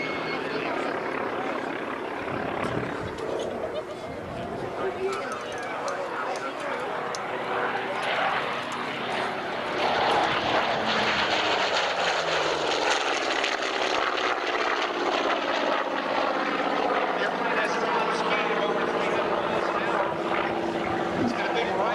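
Vintage combat-veteran warplane with a 3,300 horsepower radial engine taking off at an air show, its loud rumbling drone swelling and shifting in pitch as it passes left to right, with a commentator talking over it.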